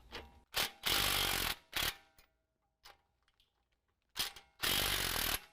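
A wrench works loose two 15mm drag link adjuster bolts on a 2017 Ford F-250 Super Duty, giving bursts of loud ratcheting clicks separated by quiet gaps, close up with no talking.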